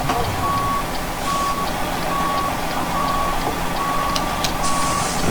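A truck backing into a spot sounds its reversal alarm: evenly spaced electronic beeps repeat steadily over a low engine rumble throughout.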